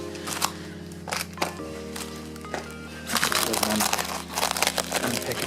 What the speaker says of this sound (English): Unpackage this.